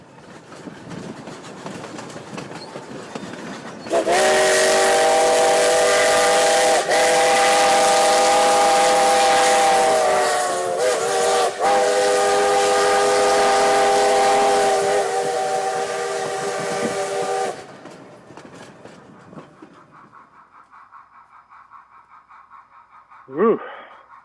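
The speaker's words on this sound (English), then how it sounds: "let me show you what the real thing sounds like" A loud steam whistle on the Toltec Scenic Railroad blows a long, sustained chord for over ten seconds with a brief dip, then cuts off, leaving rumbling train noise and a final short toot.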